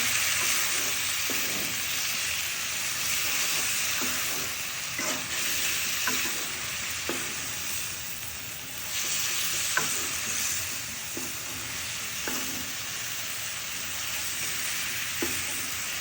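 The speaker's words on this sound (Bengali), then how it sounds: "এখন একটু নেড়ে চেড়ে খুব ভালো করে কষিয়ে নিতে হবে।" Rohu fish and winter vegetables sizzle and fry steadily in a pan for a Bengali fish curry, with scattered stirring scrapes and clacks over a continuous hiss, moderately close, no talking.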